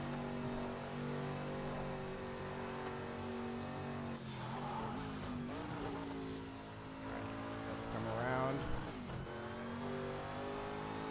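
Racing video game car on its final lap, with a steady loud engine drone that shifts and revs through corners and brief tire squeal. A voice speaks briefly over it.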